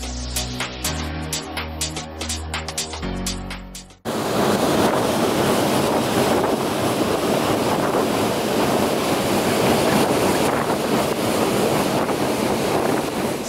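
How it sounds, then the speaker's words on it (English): Strong wind roars continuously across the sun deck of the Costa Toscana cruise ship at sea, buffeting the microphone in a loud, unbroken rush after a brief stretch of music at the start. "And here we can also hear the wind."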